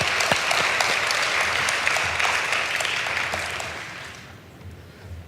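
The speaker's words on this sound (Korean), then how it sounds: "하나님께 영광의 박수를 올립니다." A church congregation at a late-night worship service applauds, a full, steady patter of clapping that gradually thins and fades out toward the end.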